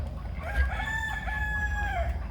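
Rooster crowing on a farm among goats, pigs and ducks: one long, loud cock-a-doodle-doo with rising and falling harmonic tones, close by, over a steady low rumble of wind or rain.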